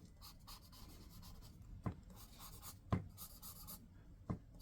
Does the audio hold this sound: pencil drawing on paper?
yes